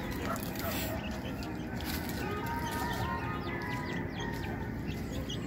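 A hen that is close to laying clucks among other chickens, a steady low cackling set against constant farmyard background noise, with a person talking over it.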